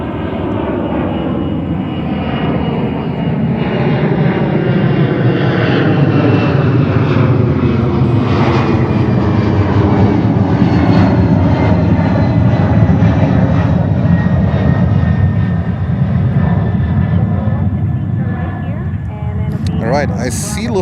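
A Delta Boeing 767 jet departing JFK for Atlanta makes a loud, sustained engine roar with a slowly shifting whine over about twenty seconds, as people talk underneath.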